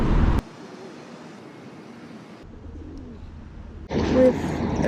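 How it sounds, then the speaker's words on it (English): Pigeons in Plaza de Catalunya, a large square in central Barcelona, give soft cooing calls over steady outdoor city ambience, with a louder burst of nearby activity near the end. "and a lot of pigeons"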